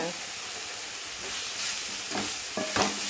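Drumstick leaves fry in a pan for chutney, a steady close hiss and sizzle with a few sharp pops and crackles near the end.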